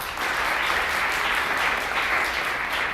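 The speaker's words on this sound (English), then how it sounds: "Can you clap or something?" Steady audience applause from a comedy show crowd, a dense wash of many hands clapping at once, loud and continuous for the whole stretch with no talk over it.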